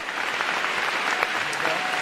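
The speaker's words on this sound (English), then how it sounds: "Give a round of applause and let me welcome you to the stage." Audience applause greets actor Goran Višnjić as he comes onstage at a live Save Soil event with Sadhguru, a steady, dense wash of clapping throughout the short stretch.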